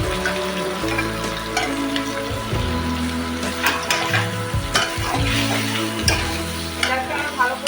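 Spices sauté with jackfruit in a pan, steady close sizzling and frying with repeated scraping strokes of a spoon stirring the mixture, no talk.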